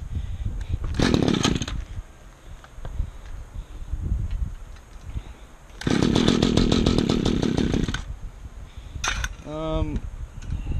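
A small engine on a cheap roto tiller sputters in short bursts, buzzing loudly for a second or two at a time and then dropping off as it struggles to stay running, with someone talking between the bursts.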